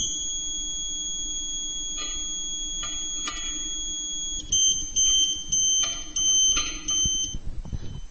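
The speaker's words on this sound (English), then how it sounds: "keep going until the beeper tone drops again" A satellite antenna pointing meter emits a high beeper tone, held steady at first, then breaking into rapid on-off beeps as the dish moves.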